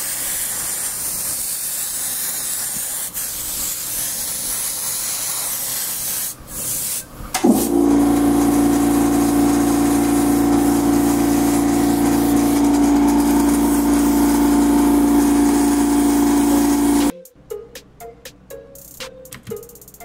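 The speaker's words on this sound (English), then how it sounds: "So now I'm airbrushing the layer of paint, the base coat on right now" An airbrush lays a base coat of ProAiir paint onto a prosthetic for special-effects zombie makeup. A steady close hiss is followed by a louder, humming spray tone that holds for about ten seconds, then cuts off abruptly.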